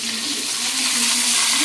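Bitter gourd pieces go into hot oil in a pan and fry with a loud, dense, continuous sizzle, close up and with no voices.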